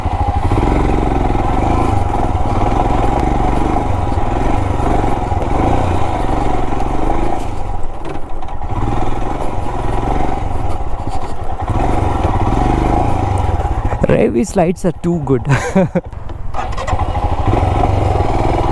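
Royal Enfield Himalayan BS6 motorcycle on the move, its exhaust giving a loud, steady low rumble with wind rush. A brief burst of clatter and revving comes near the end, and a rider speaks briefly.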